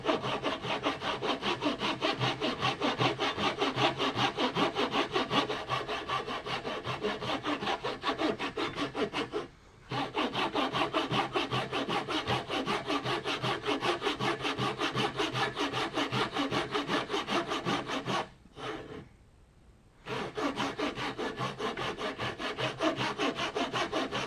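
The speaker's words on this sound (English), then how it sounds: "Cut down to your scribed line on that side." Hand saw cutting a wooden tenon for a mortise and tenon joint, a close rapid rhythm of rasping back-and-forth strokes that continues steadily with two short pauses, and no talking.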